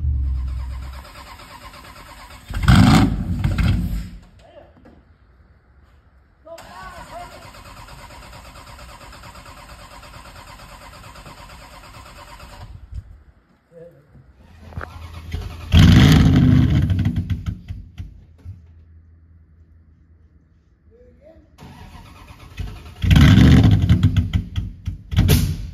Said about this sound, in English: just watching the traffic